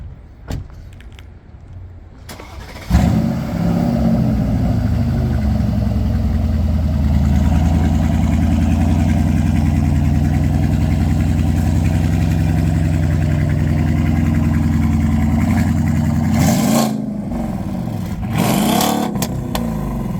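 A custom 2018 Mercedes-Benz GLE 63 S with an aftermarket exhaust starts up after a few quiet seconds and settles into a loud, deep, steady idle, with a short rev near the end.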